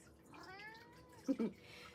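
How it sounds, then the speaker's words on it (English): Cat in a laundry room giving a faint, rising meow, followed by two short soft thumps, quiet and close in a hushed room. "that is where the other cat is. Let's see if she'll say hi."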